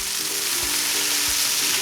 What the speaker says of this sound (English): you can see they're starting to fry up really nicely